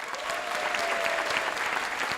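A live audience at a public radio event in Mid-City Los Angeles claps in a quick, dense round of applause, steady and fairly close for a couple of seconds.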